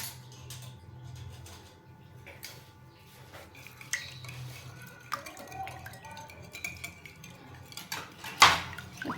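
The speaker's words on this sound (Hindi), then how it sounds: "अच्छे से चलाएंगे चम्मच को।" A spoon stirs and scrapes in a bowl of pizza dough mixture with sugar and salt, giving soft irregular clinks and scrapes, with a sharper metallic clatter near the end.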